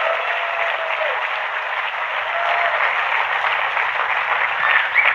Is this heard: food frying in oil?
no